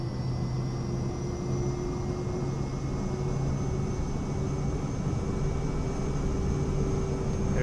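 A Cirrus Vision jet in Microsoft Flight Simulator 2024 rolls for takeoff. Its steady turbine whine and broadband engine roar hold constant throughout, moderately loud, with no talking.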